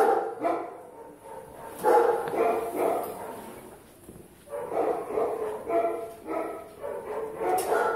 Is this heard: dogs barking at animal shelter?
yes